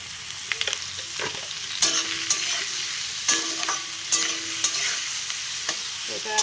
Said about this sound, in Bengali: এটাকে এরকম করে ভেজে একদম লাল করে নেব।